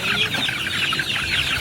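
Roundhead breed chickens cluck on a farm, a dense, continuous chorus of close, moderately loud clucks and chatter from several birds.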